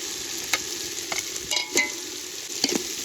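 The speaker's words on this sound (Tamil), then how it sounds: "அதை போட்டு கலக்குங்கப்பா" A spoon stirs crab gravy sizzling in a pot over a village-style fire, with a steady frying hiss broken by several sharp scraping clinks at irregular intervals.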